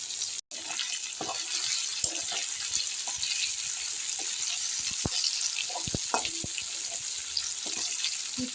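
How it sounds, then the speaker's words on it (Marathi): Bitter gourd (karela) frying in oil in a pan, a steady close sizzle with scattered pops and crackles throughout. "खूप छान तेलामध्ये असे परतून घ्यायचे"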